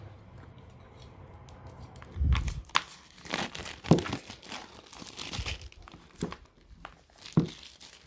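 Crisp crinkling and tearing of plastic wrap being pulled off an oracle card deck box, arriving in irregular close bursts over a quiet room.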